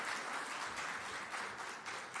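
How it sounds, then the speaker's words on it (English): Sustained applause from an audience at an official launch event, an even, dense roar of clapping with no one speaking over it. "deserves your round of applause, please, to get us here."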